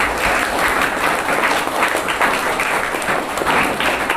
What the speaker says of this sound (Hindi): उमा जी खड़ी हो जाएं और जोरदार तालियों के साथ इनका स्वागत करें।